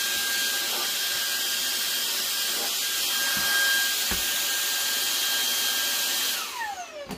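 A Shark vacuum cleaner sucks up quilting fabric scraps with a loud, steady whooshing hiss and a faint whine. Small ticks come through as pieces are pulled in, and the roar drops off near the end.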